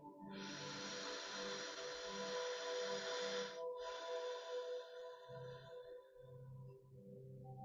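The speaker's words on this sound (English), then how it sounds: "I'm going to breathe through my left nostril no matter what" Alternate nostril breathing through the left nostril: one long, close, airy inhale, then a brief pause and a softer exhale that tapers into quiet.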